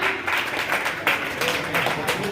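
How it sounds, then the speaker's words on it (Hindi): An audience applauds at a community memorial program held by a washermen's federation, a dense patter of clapping rising in waves at moderate distance. "जोरदार तालियां।"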